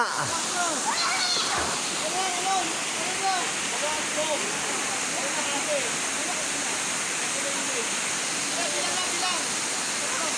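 Stream water rushes steadily and loudly around swimmers at a river outing, a constant broad wash that fills the whole stretch while people shout and laugh over it.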